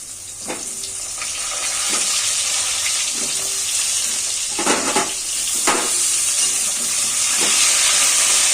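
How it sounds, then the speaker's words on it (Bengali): Pointed gourd (potol) frying in hot oil in a Bengali kitchen, a steady close hiss that swells gradually, broken by a few soft knocks of a utensil against the pan. "লাল লাল করে পটল ভেজে নিচ্ছি"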